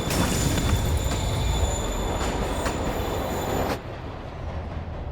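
A moving train in the Spider-Man PS4 video game, loud and steady rumbling with high metallic wheel squeal, dropping suddenly in level near the end as the rumble continues.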